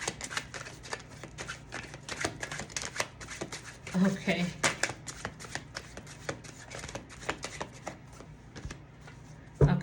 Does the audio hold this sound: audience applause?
no